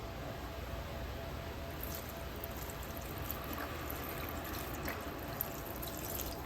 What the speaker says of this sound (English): Then go ahead and add some veggie broth.